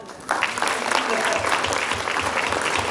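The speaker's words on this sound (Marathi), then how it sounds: "टाळ्यांचा आवाज" An audience bursts into broad, sustained clapping at an event where names are being read out; the applause starts abruptly and keeps going over talk and faint rhythmic low thumps.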